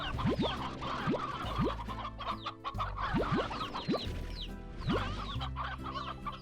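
Hens cluck repeatedly in the Slime Rancher video game, a busy overlapping chorus of short clucks and rising chirps over a steady background drone, close and fairly loud throughout.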